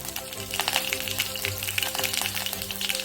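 Curry leaves drop into hot oil already popping with mustard and fenugreek seeds for a Tamil sundaikkai kara kulambu, giving a steady close crackling sizzle with sharp spitting pops throughout.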